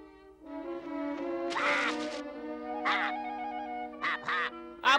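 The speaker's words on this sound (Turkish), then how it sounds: "Bu o turna kuşu." A crane bird calls in a few harsh, squawking bursts, spaced apart over a steady sustained musical drone, fairly close and clear.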